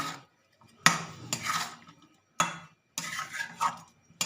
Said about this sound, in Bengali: এবার এগুলোকে সব একটা খুন্তি করে ভালো করে মাছের সাথে মশলাটাকে মিশিয়ে নেব